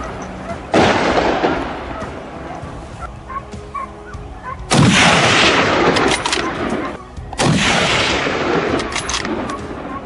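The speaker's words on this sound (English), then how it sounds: "Gripping his rifle tightly and aiming precisely, Kevin swiftly pulled the trigger." Three loud rifle shots ring out at a tomato farm, where a farmer fires at wild boar. Each sharp crack trails off into a long echo, with calmer gaps of ambient noise between them.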